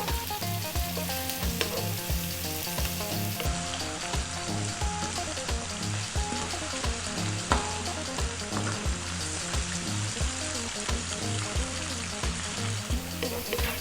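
Onions and garlic fry steadily in a pan over fairly lively, above-medium heat, giving a continuous close sizzle. Rhythmic pulsing background music plays throughout, with no talking.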